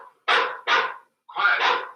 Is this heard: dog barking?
yes